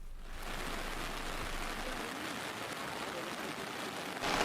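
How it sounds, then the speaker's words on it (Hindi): Heavy downpour in Ramnagar, Uttarakhand, during a monsoon flood: a dense, steady hiss of pouring rain that holds at constant loudness throughout and grows slightly louder near the end, with no voices. "इस वक्त रामनगर में ज़बरदस्त बारिश हो रही है।"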